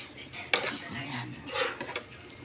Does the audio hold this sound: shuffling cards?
no